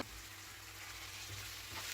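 Chopped tomatoes fry in a hot pan, giving a steady, close, dense sizzle that stays even and unbroken throughout with a faint low hum beneath.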